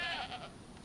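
A goat in the survival video game DayZ lets out a single short, wavering bleat, close and fairly clear, lasting under a second.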